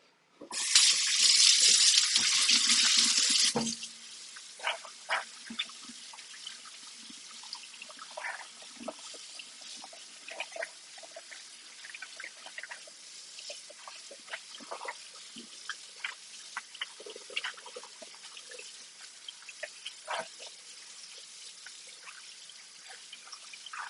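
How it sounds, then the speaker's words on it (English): Tap water runs hard over tomatillos for a few seconds, a loud steady rush that cuts off, followed by softer wet clicks and drips as the rinsed fruit is handled nearby. "Quick water rinse."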